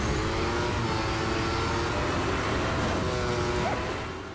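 A racing car engine in Need for Speed running on an iPad drones loudly and steadily throughout, its pitch shifting slightly as the car speeds along, with no talk.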